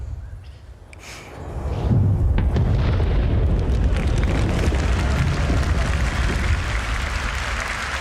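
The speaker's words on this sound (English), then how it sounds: "So we can put a cinematic element, a shockwave element, and a delayed speed of sound effect." A massive explosion with a shockwave in the space game Star Citizen bursts in after a quiet second and swells into a loud, sustained, roaring rumble that holds steady until the end.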